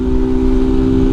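A Honda Titan 150 motorcycle engine runs steadily at close range, a constant mechanical drone with a strong tonal hum and no clear rise in pitch, heard alone throughout.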